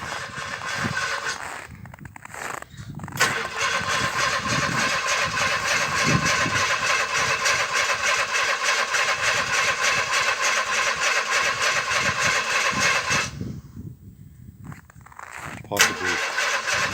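A 1961 narrow-gauge Bombardier engine cold-starting, a long stretch of loud, rough cranking and running with brief pauses where it cuts out, close by, with occasional talk.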